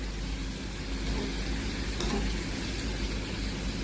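Karchikai frying in hot oil give off a steady, even sizzle and bubbling hiss that continues unbroken at moderate loudness, with no voices over it.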